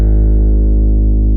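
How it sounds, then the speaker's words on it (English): Bass strings of a concert harp played dry with no effects pedals, a single deep sustained tone with rich low harmonics ringing steadily and loud, alone. "Without any effects, my harp's bass strings sound like this."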